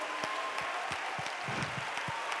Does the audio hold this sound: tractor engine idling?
no